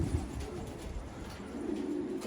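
Flight pigeons coo softly and steadily, low rounded calls overlapping against a constant background hiss.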